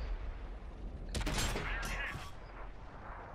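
A tank cannon fires in World of Tanks, a single sharp boom followed by a rolling burst and decay over steady engine rumble, heard up close with no talk.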